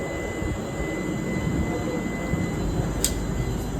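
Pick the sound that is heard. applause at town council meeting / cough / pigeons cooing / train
train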